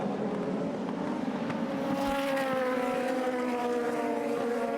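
Super Formula race cars at SUGO during the 2019 Round 3 race start, engines howling with rising, layered pitch as the pack charges into the first corner, loud and steady throughout.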